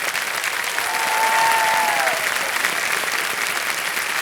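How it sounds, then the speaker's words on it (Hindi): A game show studio audience on Kaun Banega Crorepati breaks into loud, continuous applause for a contestant, full and even from start to finish, with a brief whistle-like tone rising above it. "तालियां बजते रहें इनके लिए।"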